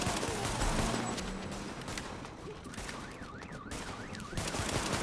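Gunfire in the video game The Division, a steady clatter of rapid shots through the whole span with a warbling alarm-like tone partway in, mid-loud with no talk over it.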